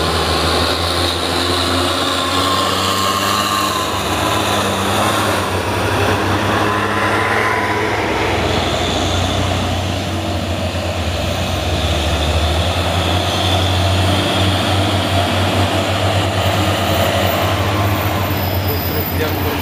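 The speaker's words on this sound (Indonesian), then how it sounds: "Truk yang bermuatan berat ada." A heavily loaded truck rolls past with a loud, steady low rumble and road noise that builds and holds throughout, while a voice talks over it.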